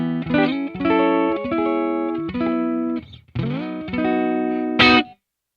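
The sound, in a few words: electric guitar single coil neck pickup through free amp simulator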